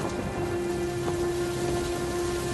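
Rain falls steadily in a village during a monsoon storm in an animated cartoon, a dense even hiss of downpour heard alone with a faint low rumble and a steady hum.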